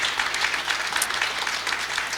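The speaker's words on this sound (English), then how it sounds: "I think we ought to give our governor a big round of applause" Audience applause for a Kentucky governor at an Appalachian Regional Commission event, a full, steady round of clapping from a sizeable crowd that stays loud and even with no speech over it.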